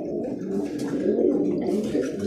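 Roller pigeons coo in low, throaty, warbling murmurs, close and continuous, with several birds overlapping and no talking.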